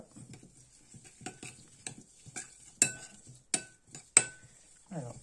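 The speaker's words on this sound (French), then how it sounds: "Alors, hop, on mélange bien." Veal marinade with paprika being mixed in a bowl, soft wet stirring punctuated by sharp metallic clinks of a utensil against the side, close and quiet.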